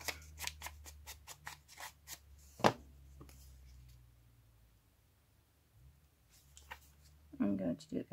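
Scissors trim the edge of a paper bingo card, a close run of crisp snips in a steady rhythm, then a louder cut and a few more snips after a pause, with a voice speaking at times.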